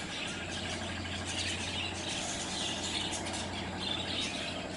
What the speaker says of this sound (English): And the birds are over there.